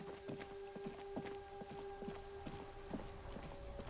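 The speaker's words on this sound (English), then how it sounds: "It's raining again." Rain falls in the game Disco Elysium, a soft steady patter of drops with scattered light taps over a quiet tonal hum, faint and continuous with no talking.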